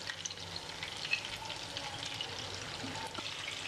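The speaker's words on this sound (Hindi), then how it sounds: "इस तरह हम फ्राई करते जाएंगे डाल के।" Chicken malai kababs fry in a pan of hot oil, giving a steady, close hissing sizzle with faint crackles and a few soft stirring sounds, no voices.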